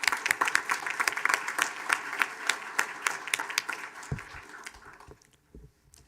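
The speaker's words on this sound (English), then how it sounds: "Please join me in giving a round of applause one more time to Cadet Palacio." Audience at a school district board of trustees meeting applauding, a brisk mix of individual claps that thins out and fades near the end, leaving a few scattered claps and room noise.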